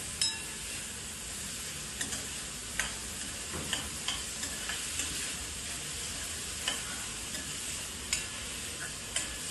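Toor dal dry-roasting in a pan with onion and chili, a steady close hiss under regular light scrapes and taps of a spatula stirring every second or so, with no speech.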